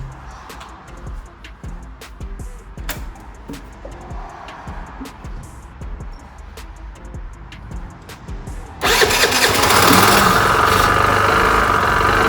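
A Piaggio Vespa 50 LX scooter engine starting after restoration work: low rumbling and tapping give way to a sudden loud, steady idle that runs close and continuous to the end.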